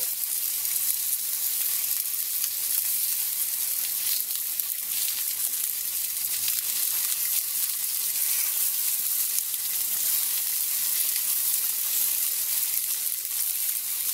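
A pork chop sizzling on a Yoshi grill mat, a steady soft hiss of frying that holds evenly throughout, with no voices.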